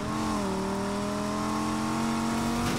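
Dodge Viper engine in Need for Speed Heat: a steady, loud, close drone with several layered harmonics that rise gradually as the car accelerates, ending in a brief shift near the end.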